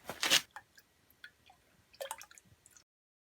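Marvel Mystery Oil is poured onto pistons from a 2010 Taurus SHO during decarbonizing, giving a brief close splash followed by scattered drips and a second wet burst of trickling, then silence.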